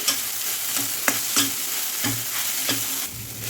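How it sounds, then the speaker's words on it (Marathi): Steady sizzling of grated coconut frying in ghee in a wok, punctuated by repeated scraping knocks of a spatula stirring at an irregular pace. "आपण तीन ते चार मिनिट मस्त नारळ फ्राय करून घेऊ कढईमध्ये"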